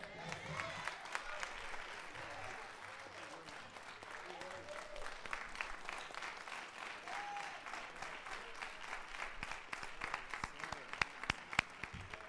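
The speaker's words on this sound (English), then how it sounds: "Give him one more round of applause." Applause from a church congregation at an installation service fills the room with dense, steady clapping, building toward sharper, louder claps near the end, while a voice speaks faintly beneath it.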